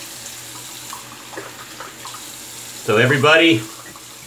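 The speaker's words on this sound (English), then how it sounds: "Let's get this rinsed." Running tap water rinses lather off during a shaving session, with soft talk early on before a loud burst of water near the end.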